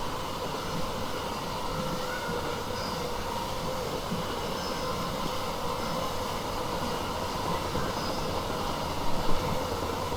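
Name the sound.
train running at speed in Train Sim World 4 video game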